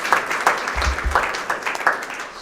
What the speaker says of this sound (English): A massive round of applause for Kate for pulling it together.